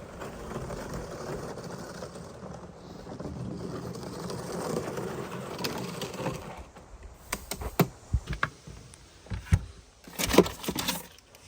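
A Jackery 3000 Pro power station is pulled by its raised handle across sandy ground strewn with fairly large rocks, giving a steady gritty rolling rumble that breaks into sharper knocks and clatters near the end, with no talking.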